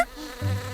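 Cartoon honeybees give a short insect buzz, a brief close hum lasting under a second with no talk over it.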